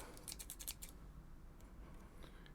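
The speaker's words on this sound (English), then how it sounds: "scissors." Scissors snip through a plastic card sleeve while a graded trading card is being cracked out of its slab: a quick run of crisp, faint cuts in a quiet room, then near silence.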